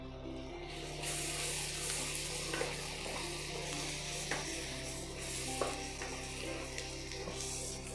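Chunks of elephant foot yam are added to a dry fish curry in a pan and stirred, giving a steady soft sizzle with scraping and stirring under a constant low background hum, with no speech.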